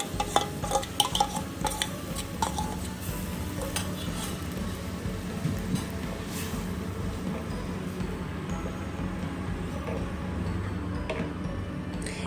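Blended gravy for paneer butter masala is poured into melted butter in a pan and stirred, giving a quiet, continuous sizzle with scraping and clinking of a spoon against the pan.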